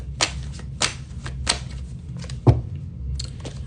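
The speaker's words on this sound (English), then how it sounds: "I'm going to shuffle because I don't want to pull the same cards." A tarot deck is shuffled by hand in a run of crisp, papery riffles and slaps, roughly one every half second, close to the microphone, ending with a sharper tap; no one speaks.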